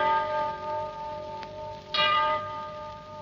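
A clock strikes the hour with deep bell-like tones, one soft stroke followed by a louder one about half a second later, each ringing out over a faint, steady hum in a quiet room.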